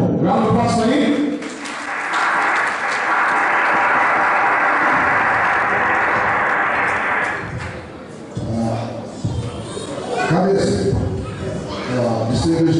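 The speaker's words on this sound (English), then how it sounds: "Round of applause for him." A seated audience at an evening award presentation breaks into a sustained round of applause that swells and then fades, with a speaker's voice heard before and after the clapping.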